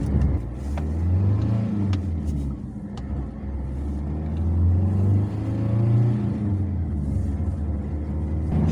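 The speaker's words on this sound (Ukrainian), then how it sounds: "Машина їде дуже бадьоро." A Ford Transit 2.0 van engine revs and accelerates while driving, low rumbling swells rising and falling over several seconds, close and steady, with no talking.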